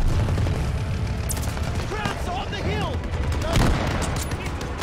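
Gunfire in Call of Duty Vanguard crackles continuously, dense automatic fire and occasional booms under a steady battle din, with voices speaking over it.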